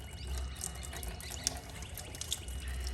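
Purified water rinses window louvres and a bracket, a faint continuous spray and trickle with small drips, with no voices.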